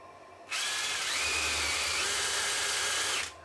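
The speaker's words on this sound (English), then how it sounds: "And I can just drill out now the hole nice and slowly." A power drill whirs at a steady high whine for almost three seconds while drilling a hole through a turned cherry wood lamp, starting abruptly and cutting off near the end, loud and close.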